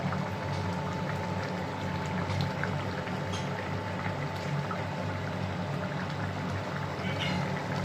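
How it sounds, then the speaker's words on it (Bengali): Katla fish curry bubbles in a pot on the stove, a steady low simmering and gurgling that runs continuously through the whole stretch, with faint kitchen sounds mixed in. "ভালোই ফুটছে"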